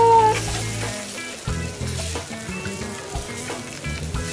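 Food grilling over charcoal in Batangas, a steady crackling sizzle with popping bursts, loud and close throughout.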